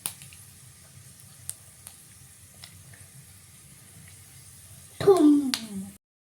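Curry leaves hit hot oil already frying fenugreek seeds. After a faint, quiet stretch, a sudden loud hiss and crackle bursts up close and fades within about a second.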